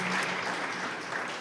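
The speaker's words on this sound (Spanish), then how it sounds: "aplausos para ti, Señor, no para nosotros" A church congregation bursts into a short wash of dense applause. It is loud and continuous from the first moment.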